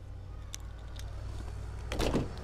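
The door of a 27-year-old car opened in winter cold: a short, louder clunk and scrape near the end over a steady low outdoor rumble, with no talking.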